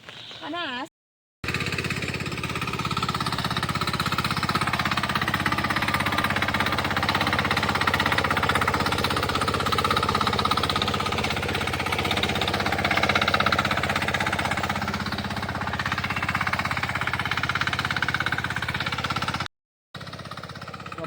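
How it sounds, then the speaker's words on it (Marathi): A tractor engine runs loudly and continuously up close, a dense rumbling drone with a rattling knock, broken only by two brief cuts. "पप्पा ट्रॅक्टर फिरवतो"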